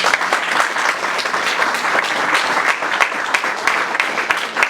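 A church congregation claps together in a dense, continuous round of applause, filling the space evenly from start to finish with scattered louder claps.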